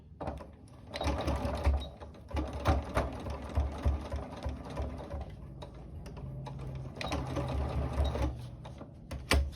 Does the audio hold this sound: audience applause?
no